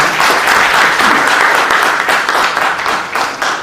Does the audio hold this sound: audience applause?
yes